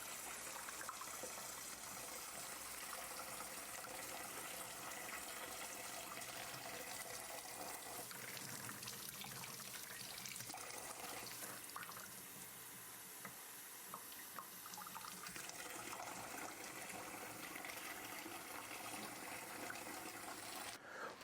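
Steady running water from a tap rinsing sausage casings for venison Italian sausage, a constant soft gushing and trickling that continues throughout at low level without talk.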